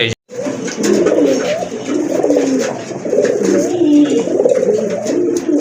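Several pigeons coo continuously and close by, including a large red Rajgolla pair and black-and-white short-beaked birds kept for sale, their overlapping rolling calls filling the whole stretch with no talk.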